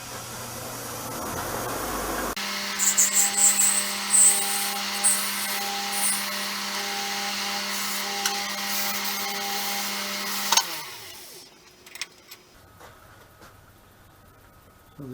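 A power sander works the ends of small wooden game discs, giving a loud steady whine with scratchy contact bursts for about ten seconds before winding down and stopping, followed by a few light knocks.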